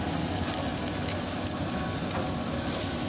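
Salmon and asparagus sizzling in a pan, a close, even hiss of frying that holds steady throughout with no speech.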